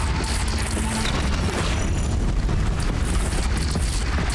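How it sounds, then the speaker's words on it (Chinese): Loud, continuous rumbling roar of cannon fire in the Horizon Zero Dawn video game, heavy low booms blending into a sustained blast-like wash with no clear gaps. "去发射大炮！"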